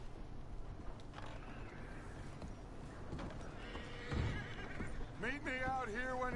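A horse whinnies loudly in Red Dead Redemption 2 near the end, a rising neigh over the soft clopping of hooves and background game ambience, with talk earlier in the scene.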